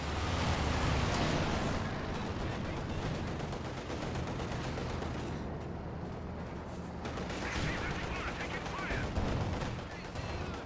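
An aircraft strafing run in the Company of Heroes war game brings dense, rapid machine-gun fire and loud rumbling explosions. Heavy, continuous battle noise fills the whole stretch.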